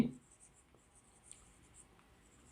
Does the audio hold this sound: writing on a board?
yes